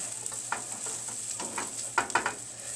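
Chicken pieces for sweet and sour chicken frying in a pan give a soft, steady sizzle with scattered crackles and pops, fairly quiet and close, with no voices.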